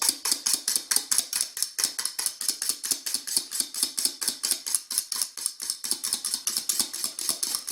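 Eggs for Greek avgolemono egg and lemon soup are beaten in a bowl as hot liquid goes in slowly, giving a fast, steady run of bright clinking whisk strokes against the bowl, close and alone.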